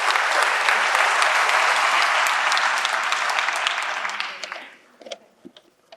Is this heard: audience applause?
yes